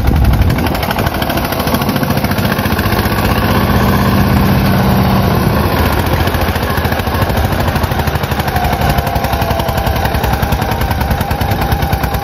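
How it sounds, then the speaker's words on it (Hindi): Tractor engine straining under heavy load as its tyres spin and churn through soil, a loud, continuous rattling, pulsing diesel drone up close, with no talking. "ट्रैक्टर के टायर घूम रहे, मिट्टी उखड़नी शुरू हो गई है"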